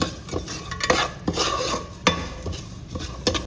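Poppy seeds dry-roasting in a pan for Karnataka-style payasam, stirred with repeated sharp scrapes and clinks of a spoon against the metal over a soft, steady frying hiss, close and without talk.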